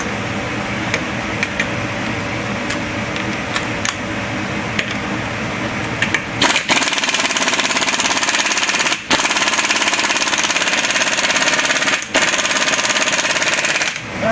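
Half-inch impact wrench hammering at a seized brake part on a 2007 Hyundai Accent, a dense rattling burst broken by brief pauses and trigger releases, loud and close with no talking.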